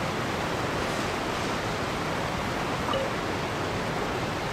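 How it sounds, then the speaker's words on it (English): A loud waterfall in the Nation of Hydro region of Genshin Impact pours with a dense, unbroken rushing roar, constant in level and alone with no voices. "The waterfall is very loud."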